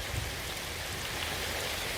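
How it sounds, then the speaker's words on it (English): Steady rain falls on a garden being landscaped with paving and decking, a continuous close hiss of drops on hard surfaces with no talk. "you can hear the rain"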